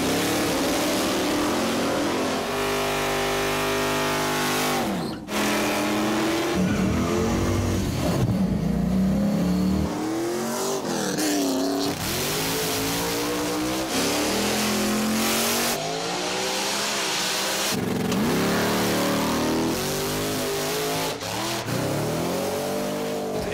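Car engine at a drag strip during test-and-tune runs, revving hard and accelerating in repeated rising sweeps with brief shifts between, loud and close throughout, no talking.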